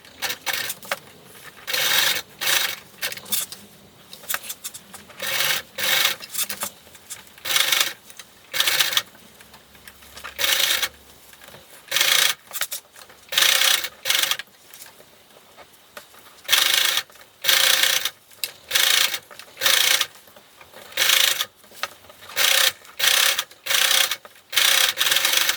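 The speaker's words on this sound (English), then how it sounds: "you're going to sew around both of the armholes with a 1/2 inch seam allowance" A sewing machine stitches a half-inch seam around sleeve armholes through several layers of fabric, running in repeated short bursts with brief pauses between, close and clear with no talking.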